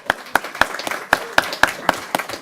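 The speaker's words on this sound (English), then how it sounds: "Round of applause." Applause from a school board meeting audience at a student awards presentation, sharp individual claps in a loose rhythmic pattern, close and fairly sparse, heard alone.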